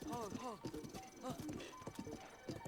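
Horse hooves clip-clop in a steady, brisk rhythm in the video game Zelda Breath of the Wild, with whinny-like tones over the top and a person talking throughout.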